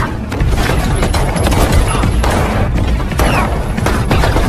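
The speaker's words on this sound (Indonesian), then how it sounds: "aksi baku tembak pun tak terelakkan" Gunfire during a shootout between police and drug gangsters in a mafia action film, with rapid bursts of shots and heavy thuds packed into a loud, chaotic barrage that keeps going throughout.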